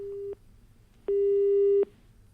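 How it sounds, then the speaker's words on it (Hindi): Telephone busy signal after a dropped call line: two steady electronic tones, a short beep then a longer one, loud and clear over a faint background hum with no talk. "तो रणवीर हमारे साथ अभी जुड़ नहीं पाए हैं, उनका फोन लाइन कट गया है।"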